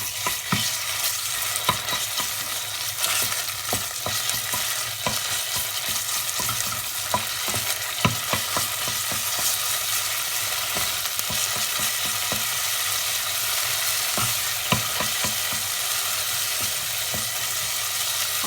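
Onions and a spoonful of tomato paste fry and sizzle steadily in a pan while being stirred, with occasional scraping clicks of the spoon over an even, continuous hiss; no voices.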